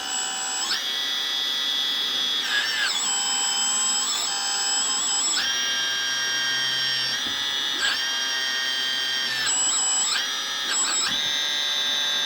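The small electric hydraulic pump in a 1/16 scale Ertl Deere 200D LC RC excavator conversion whines at high pitch close by, its tone rising and falling repeatedly as the pump speeds up and slows.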